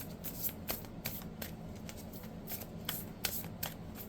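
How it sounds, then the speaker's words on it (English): Tarot cards being shuffled and pulled by hand, a run of quick riffling flutters and soft slaps repeating close up in a quiet room, no talk. "I'm going to actually just go ahead and pull the rest of your cards"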